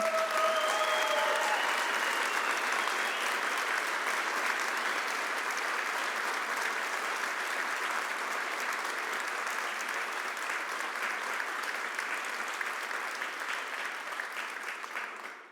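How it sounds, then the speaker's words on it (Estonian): Sustained applause from an event audience for sponsors at the Solaride presentation at Vision Venues 2023, a thick, even roar of clapping that runs steadily throughout and fades at the very end. "kõik meie sponsorid sõltumata sektorist, sõltumata ettevõttest või organisatsioonist on ära teeninud ühe väga-väga suure aplausi"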